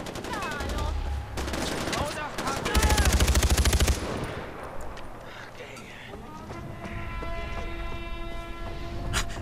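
Rapid automatic gunfire crackles through a battle in the Far Cry 4 video game, arriving in two dense bursts with other game noise and voices mixed in.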